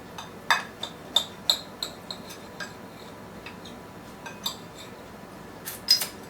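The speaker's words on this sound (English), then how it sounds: "Let me get my knife here and I'll cut this thing." A table knife cuts through a crumpled burger, giving a string of sharp, light clicks and scrapes of metal on a plate, spaced unevenly and fairly close, with no talk.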